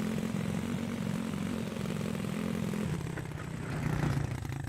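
An ATV engine in a survival video game, a continuous droning motor with a low, buzzing pulsing tone that swells slightly near the end, with no talking.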